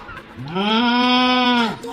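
A voice imitates a cow's moo in one long, drawn-out low call lasting over a second, loud and close, with brief talk around it.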